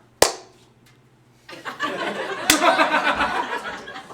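A single sharp clap rings out, then after a short pause a person claps repeatedly in a steady burst, close and fairly loud, with a bit of room reverberation trailing each hit.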